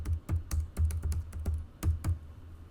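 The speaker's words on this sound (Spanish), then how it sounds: "Tecleamos." Close, quick key taps on a computer keyboard, about a dozen clicks in an uneven burst, with no voices.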